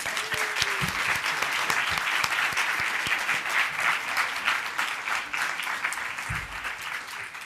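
An audience at a science café talk applauds a visiting guest speaker, with steady, moderately distant clapping that fills the whole stretch, dotted with a few sharper nearby claps and a brief murmur.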